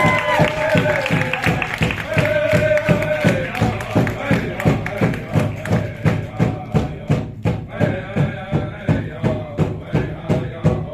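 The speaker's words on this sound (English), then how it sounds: "give us some hands. Cheer 'em on." Crowd at a pow-wow exhibition at UGA clapping in a steady rhythmic beat with cheering and whoops, moderately close and sustained throughout, voices mingling over the regular claps.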